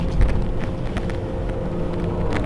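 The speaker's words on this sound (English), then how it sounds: "Tesla Model 3 long range dual motor out for a drive" Tesla Model 3 Long Range Dual Motor on the move, a steady low road and wind rumble that stays even throughout with no distinct events, heard from inside or near the car.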